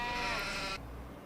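A sheep bleats once in Farming Simulator 25, a single short, fairly faint bleat lasting under a second before cutting off.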